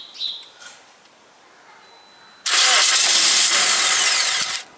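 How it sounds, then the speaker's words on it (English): A car engine cranks and fires up, a sudden loud broadband roar after a quiet stretch with a brief chirp at the start, and it holds steady before fading at the end. "Let's start the car up."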